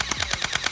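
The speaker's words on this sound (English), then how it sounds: "You can pull back the slide and you can just shoot without even moving the slide." An HW Glock X1 gel blaster firing quickly: about six sharp, evenly spaced pops in under a second, close and distinct.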